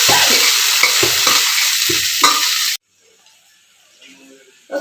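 Noodles going into a hot frying pan with loud close sizzling and stirring scrapes for a few seconds, then cutting to near silence with faint background sounds.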